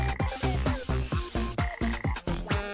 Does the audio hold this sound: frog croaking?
yes